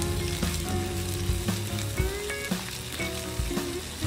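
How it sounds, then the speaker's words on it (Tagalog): White onions frying in hot cooking oil give a steady, close sizzle with faint scraping stirs and small pops throughout, with no talking. "Magkaramelize tayo ng white onions."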